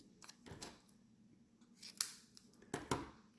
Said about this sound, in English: I'm just going to trim this down a little bit